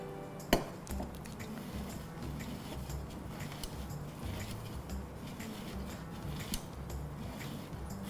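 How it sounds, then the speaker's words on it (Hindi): Paneer rubbed across a fine kitchen grater, a steady soft scraping with one sharp tap near the start, moderately close and continuous. "और पनीर को जब कद्दूकस करें तो बहुत ही महीन जो है इस पे करें"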